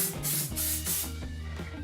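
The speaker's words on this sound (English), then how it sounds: "we're just going to take some hairspray" Several quick, close bursts of aerosol spray hiss in a row, each a short pressurized spritz.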